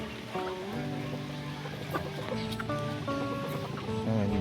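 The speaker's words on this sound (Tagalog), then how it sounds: "May manok pang panabong." Hens and a fighting rooster clucking and calling in a yard with ducks nearby, several overlapping bird calls at moderate distance over steady background noise.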